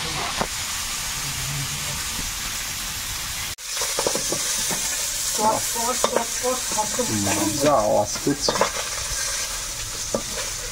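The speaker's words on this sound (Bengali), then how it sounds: "তার মধ্যে থেকে ভেজে তুলে নিলাম।" Fish fries in a pan at a home kitchen in the Sundarbans, giving a steady hissing sizzle. Stirring and clattering come in after a brief cut, with faint voices murmuring underneath.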